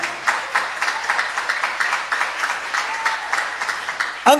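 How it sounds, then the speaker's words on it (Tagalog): A congregation at a JMCIM preaching service claps in steady, even rhythm, with dense repeated hand claps from many people filling the space at a moderate volume. "Palakpakan natin ang ating mahal na Panginoon, may mahal"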